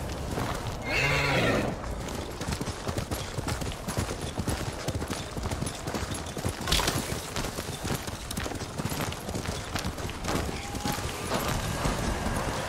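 In the Ghost of Tsushima video game, a horse whinnies loudly near the start, then hooves clip-clop steadily under a dense, busy game soundscape that lasts throughout.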